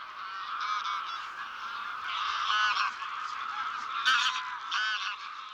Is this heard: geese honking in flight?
yes